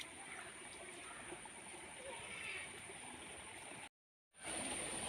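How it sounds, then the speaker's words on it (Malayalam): Water running along a small roadside stream, a steady close rushing and splashing with a constant hiss, cut by a brief dropout near the end. "കണ്ടോ വെള്ളം ഒഴുകുന്നത്."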